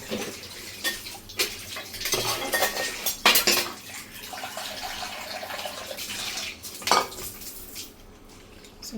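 Prawns being washed in water in a metal vessel, with sloshing water and repeated clattering knocks of the pot and utensils, close and fairly loud, no talking.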